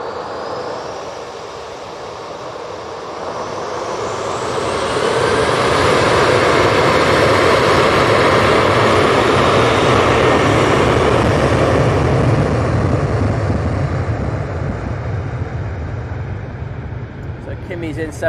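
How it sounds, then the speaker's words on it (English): A Juneyao Airlines Boeing 787-9 Dreamliner arrives at Manchester Airport, a high thin whine at first giving way to a swelling, loud jet roar that peaks midway and slowly eases, with talking over it. "Next in, we have the Junyao 787-9 Dreamliner."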